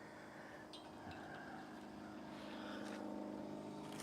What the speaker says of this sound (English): Can you hear the plane flying above us?